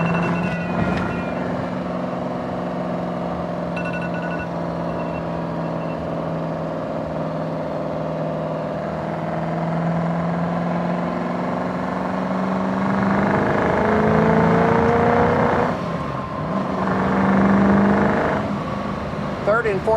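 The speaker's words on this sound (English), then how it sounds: "Third and fourth gear pulls are a lot of fun in this car." A 1967 Ford Mustang with the K-code engine pulls hard through the gears from inside the cabin, its steady engine drone climbing in pitch with audible shifts near the end, loud and close.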